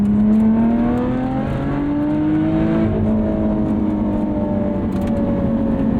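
A 2020 Lotus Evora GT's V6 revs hard in sport mode with the exhaust valve open, a loud, close, steady engine note with rising and falling pitch sweeps, no talking.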